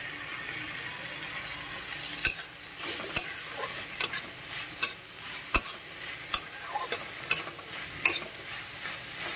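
Tomatoes roasting in a pan with coriander leaves for chutney, giving a steady soft sizzle under a series of sharp spatula scrapes and taps against the pan, about one every second.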